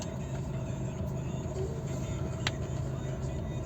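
A Volvo V50 1.6 diesel idling after a start, a low steady rumble that stays even throughout, with a faint click partway through.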